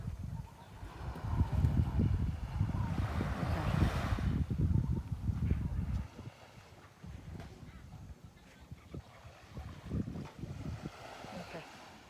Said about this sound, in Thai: ฟังเสียงทะเลนะคะ